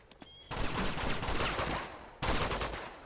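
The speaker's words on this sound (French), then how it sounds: "Il y en a un autre qui tire par le bas." An enemy firing from below in Uncharted 2 sends out two sustained bursts of loud automatic gunfire, separated by a brief pause, after a few faint shots at the start.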